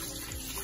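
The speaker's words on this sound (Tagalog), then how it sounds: "Lagyan po natin ng tubig." Water poured steadily into a pressure cooker holding pork belly for crispy pork belly, a continuous close splashing gush with no talk.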